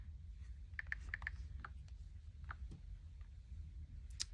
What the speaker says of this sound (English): let's type in the word hello, and then let's use this one and type in the word spring